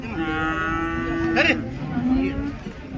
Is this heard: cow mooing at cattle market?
yes